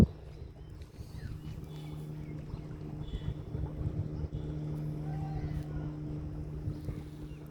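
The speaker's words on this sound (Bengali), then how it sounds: "ওই জায়গার থেকে বোট চলছে, এই যে বোট" A boat running on water somewhere below a rocky, scenic spot, heard as a faint, steady low engine drone with wind and soft water noise over it.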